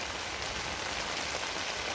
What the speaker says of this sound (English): this evening we're getting the rain.